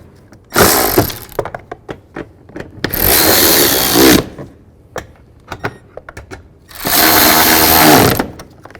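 Side mirror bolts being snugged down on a 2007-13 Chevy Silverado with a power tool, three loud, close bursts of buzzing whir, each about a second long, broken up by scattered clanks and taps.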